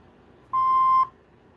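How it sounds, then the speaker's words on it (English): An answering machine gives a single clean, steady electronic beep of about half a second, loud and alone against faint background hiss. "Please leave your name and phone number after the beep."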